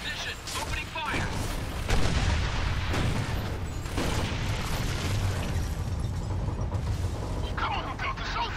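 A tank in Gears of War 2 opens fire during heavy combat, heavy booms and blasts rolling through a dense wash of battle noise while voices talk over it.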